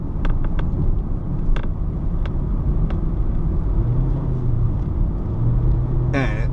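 Honda HR-V EXL 2018 SUV taking a curve, a steady loud low road rumble and engine drone filling the whole stretch, with faint short clicks and a brief higher whine near the end.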